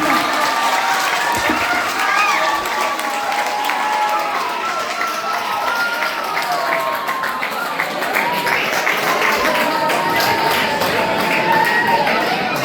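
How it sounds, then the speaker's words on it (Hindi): Audience applause welcoming a guest at a school felicitation ceremony, a sustained dense crowd clapping with some cheering, fairly loud and continuous for the whole stretch. "जोरदार तालियों से स्वागत करें"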